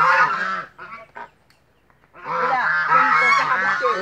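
Several white and black geese honk loudly and repeatedly up close, a burst of overlapping honks, a short pause with a few scattered calls, then another noisy chorus.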